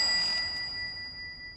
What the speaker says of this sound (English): The door opens, ringing a bell attached to the door frame.